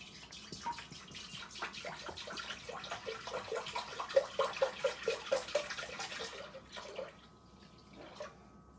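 Apple cider glugging from a bottle into a pot, a close, steady liquid pour with rhythmic gurgles that fades to quiet near the end.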